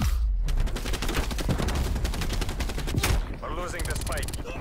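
Rapid video-game gunfire, dense bursts of automatic shots in quick succession, loud and continuous, with a brief lull near the end.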